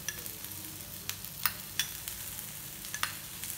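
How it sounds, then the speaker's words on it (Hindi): Oil sizzling around chana dal vada on a tawa, a soft steady hiss dotted with small crackles and pops, quiet and close, without any speech. "बस अब इसी तरीके से फिर से हम इसके साइड में थोड़ा थोड़ा ऑयल डालेंगे।"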